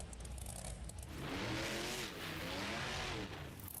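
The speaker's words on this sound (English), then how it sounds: "She's revving up that truck." Monster truck engine in the BeamNG video game revving hard at a monster truck show, a loud sustained roar with rising and falling pitch sweeps, alone without talk.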